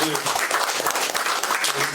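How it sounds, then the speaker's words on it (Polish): Audience applause at a painting exhibition opening in a Lublin gallery, dense lively clapping from a room of people, heard close and steady for a couple of seconds with voices mixed through it. "Brawa, proszę Państwa"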